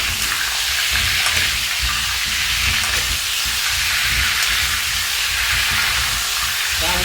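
Loud steady sizzling and hissing from lemons cooking in a hot pan for pickle, with scattered small pops and crackles as they burst, no voices.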